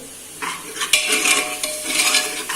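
Masala sautéing with salt in a pan while a spoon stirs it, giving a light sizzle with scraping strokes and metallic clinks in uneven bursts, close and unaccompanied by speech.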